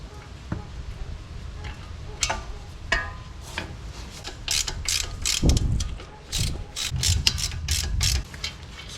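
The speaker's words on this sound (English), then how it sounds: "we can go ahead and bust loose these lower mounting bolts" A ratchet breaking loose the lower strut mounting bolts on a Cadillac XT5, with rapid clicking pawl bursts and metallic clanks close by, plus some light shuffling of tools.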